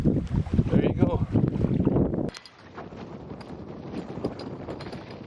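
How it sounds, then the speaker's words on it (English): Wind gusting across the North Saskatchewan River during a fishing trip, roaring and buffeting the microphone for about two seconds before easing into a softer, steady rush. "This wind has been killing us here today."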